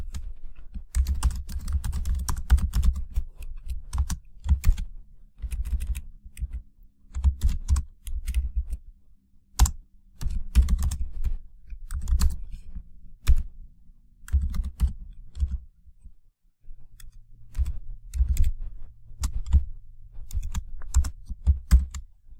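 Steady runs of computer keyboard typing while code is entered, close and clear with brief pauses between bursts and no talking.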